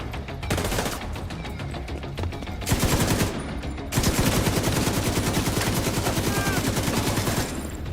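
Rapid bursts of automatic gunfire in The Division 2, fired while walking, loud and continuous with sharp repeated cracks and a brief pause near the third second before firing resumes.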